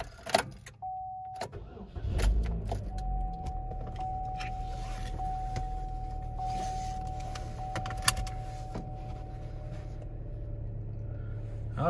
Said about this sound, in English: So from here, we will start the vehicle.